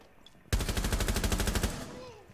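A loud, rapid burst of automatic gunfire in Rainbow Six Siege starts abruptly and rattles off about a dozen evenly spaced shots in just over a second, close and harsh, then stops.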